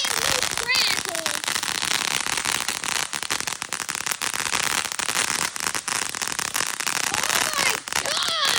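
A TNT Fireworks Little Legend crackling firework fills the air with dense, continuous loud crackle and sizzling pops close by, with excited voices calling out over the noise.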